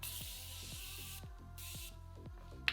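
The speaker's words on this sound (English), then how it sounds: "Let's spray the face" Two short bursts of fine mist hiss from a Morphe Continuous Spray setting spray bottle onto a face, close by, over a low background tone.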